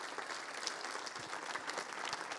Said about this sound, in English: let's give him a massive round of applause